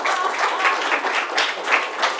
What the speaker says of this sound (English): Give Renee a nice round of applause.